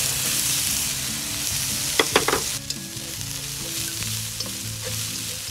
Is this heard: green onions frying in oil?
yes